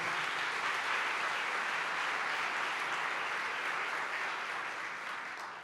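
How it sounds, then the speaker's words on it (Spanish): Church congregation applauding, a steady dense wash of many hands clapping that holds evenly and then begins to fade at the end, with no speech over it. "Si le va a aplaudir, apláudale fuerte al rey."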